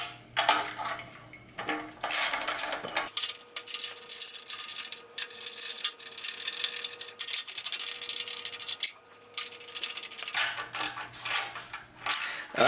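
Metallic clinks, scrapes and small ratcheting tool sounds close up as the coil is worked off the top of an old Western Auto 5hp boat motor, coming in irregular bursts with no speech.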